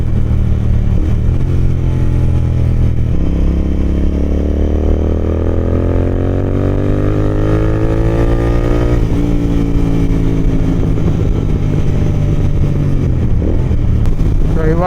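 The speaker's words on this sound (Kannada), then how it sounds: "RPMsನ ಜಾಸ್ತಿ ಇಟ್ಕೊಂಡು ಸ್ಪೀಡ್ ಕಡಿಮೆ ಇಟ್ಕೊಳ್ಳೋಣ. ಆವಾಗ ಫ್ಯೂಲ್ ಜಾಸ್ತಿ ಕನ್ಸಂಪ್ಷನ್ ಆಗುತ್ತೆ." A motorcycle engine held at high RPM while riding slowly, a loud, steady close-up drone whose pitch climbs and dips through repeated revs, with wind and road noise throughout.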